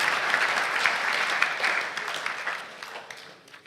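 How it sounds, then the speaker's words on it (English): Applause from a church congregation after children perform on stage: steady, dense clapping from many hands, fairly loud at first and gradually thinning and fading toward the end, with no voices over it. "If you want to give them a round of applause"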